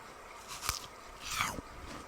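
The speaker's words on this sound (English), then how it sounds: "Do you like the way watermelon sounds?" Bites of crunchy watermelon, two quiet close-up crunches with wet chewing in between, soft and intimate with no talking.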